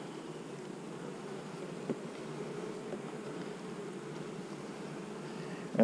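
Honey bees buzz steadily around an opened hive during nuc colony work, a continuous low droning hum with no talk.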